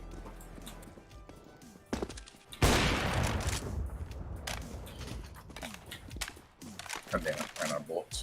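Rapid CS:GO gunfire bursts in a video game, loud and dense with crackling shots, overlapping with talking voices and other game noise.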